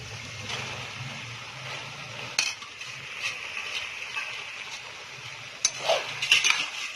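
Macaroni and softened vegetables being stirred in a pan for homemade chicken macaroni: soft scraping and light clinks of a spoon against metal, fairly quiet, with a few sharper knocks toward the end.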